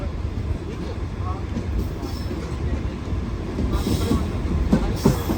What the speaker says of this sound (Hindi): इस घुप अंधेरे के अंदर स्टेशन के अंदर दाखिल हो रही है ट्रेन